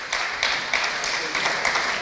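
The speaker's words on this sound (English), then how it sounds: "Let's give her a big round of applause" Audience applause at a ham and bacon auction, short bursts of clapping from a crowd indoors, moderately loud and rhythmic in waves.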